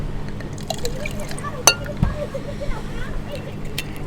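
Vanilla vodka is poured into a cocktail shaker holding ice, giving soft liquid trickles, drips and a sharp clink of ice near the middle, fairly close and quiet.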